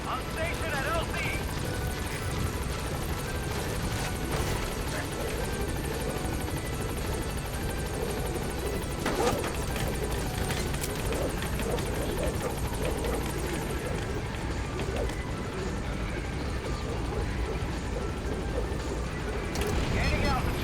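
Helicopter in Metal Gear Solid V: The Phantom Pain gaining altitude, a steady loud rotor and engine roar filling the whole clip, with voices speaking over it.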